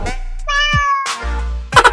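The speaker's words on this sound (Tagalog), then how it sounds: "Uy, may pusa." A cat meows several times in a dark room of a van, with drawn-out tonal cries and a quick burst of shorter meows at the end, close and fairly loud.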